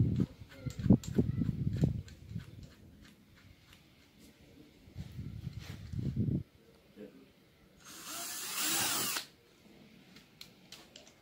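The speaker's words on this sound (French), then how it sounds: "on commence par percer du diamètre de la vis." Power drill boring a screw-diameter hole while building an airplane-shaped weather vane, heard as short whirring bursts early on and around the middle, then a loud sustained drilling run near the end, with a brief voice between bursts.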